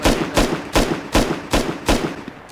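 Gunshots from a firearm in the survival game Rust: six evenly spaced loud reports, about one every third of a second, each a sharp broadband crack with a short tail, with no talk over them.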